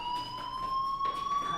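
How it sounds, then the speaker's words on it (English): Electronic fire alarm from the video game Life Is Strange, a steady high tonal siren with harmonics that holds continuously and rises slightly in pitch, loud and alone without talk. "do you hear that fire alarm?"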